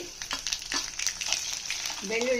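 Curry leaves and crushed garlic sizzling in hot oil for toor dal rasam, a busy crackling fry with scattered pops and a faint tonal squeak near the end, fairly quiet and close.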